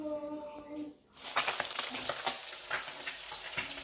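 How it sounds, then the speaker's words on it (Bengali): Fish sizzles loudly as it fries in a hot pan of oil with ginger, onion and chilli, a sudden burst of crackling after a brief quieter moment, then steady dense spitting with occasional sharper pops. "মাছটো পটাপট ভাজি কৰি ল'লোঁ"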